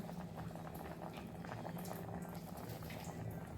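Amti, a Maharashtrian dal curry, comes to a boil in a pot, giving a steady close bubbling and popping simmer throughout with no talk.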